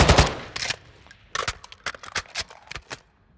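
Gunfire from Call of Duty: Modern Warfare II, a loud single shot followed by short bursts and a rapid run of sharp, closely spaced shots, then stopping.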